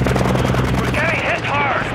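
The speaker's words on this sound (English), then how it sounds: "Hostile Overwatch helo in the area." Hostile helicopter in the video game Call of Duty: Modern Warfare II multiplayer, a loud rhythmic rotor thump under game effects and a voice talking over it.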